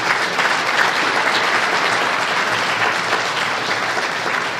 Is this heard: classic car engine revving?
no